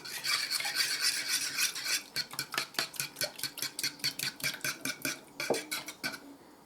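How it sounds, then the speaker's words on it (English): A spoon briskly stirs oil, egg and milk together in a bowl for mini muffins, first a continuous scraping swirl, then a quick run of rhythmic clinks and scrapes against the bowl, close and quiet, no talking. "let me mix this up. Because it says mix the oil, egg, and milk. Stir it up."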